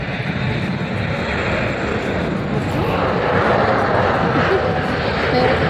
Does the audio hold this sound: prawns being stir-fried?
no